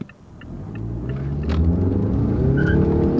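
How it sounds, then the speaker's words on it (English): A Mazda with a 2.5 liter turbo engine pulls away from a left turn under hard throttle, its engine note rising from a low idle rumble into a loud, building acceleration heard from inside the car. "You step on the gas, it does pick up and go."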